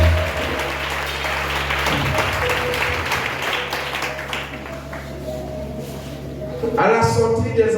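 A church congregation applauding and acclaiming the Lord, a sustained wash of clapping and voices that fades partway before a louder burst of speech near the end.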